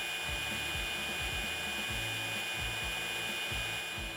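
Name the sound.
40V cordless string trimmer head spinning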